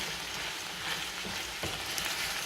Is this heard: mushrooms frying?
yes